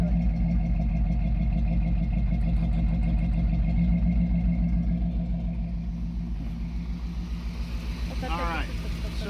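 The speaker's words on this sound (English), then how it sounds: "Now listen to the engine speed." A 1976 Dodge D100 with a Mopar 440 engine idles nearby, a steady loud rumble with a regular lopey pulse. Near the end the speed dips slightly, while a person speaks under the engine.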